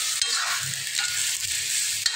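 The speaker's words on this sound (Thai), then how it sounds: "ผัดไปเลยนะครับ" Long beans, eggplant and small bitter melon are stir-fried northern Thai style in a hot pan, with fermented fish sauce among the ingredients, giving a steady, close hiss of sizzling under the scrape and toss of stirring.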